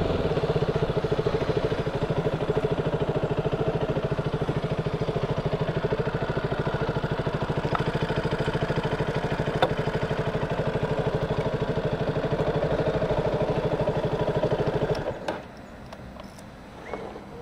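A KTM Duke 200 motorcycle engine idles with a steady, close, even mechanical thrum and light clatter for about fifteen seconds, then cuts off abruptly, leaving faint background sound.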